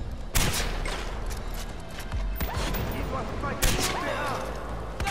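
Bursts of gunfire in Far Cry 4, with two sharp loud volleys standing out over a steady background of combat noise while someone talks throughout.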